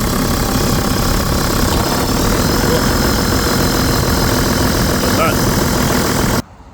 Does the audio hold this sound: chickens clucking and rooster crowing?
no